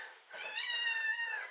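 A pet cat meows loudly and insistently nearby, one drawn-out, wavering call lasting over a second with no other sound around it.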